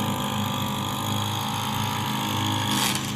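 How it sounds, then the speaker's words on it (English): Echo SRM 225 string trimmer cutting grass a short way off, its engine droning steadily with a faint whine, swelling briefly near the end. "over here is the Echo SRM 225 up there, cutting away"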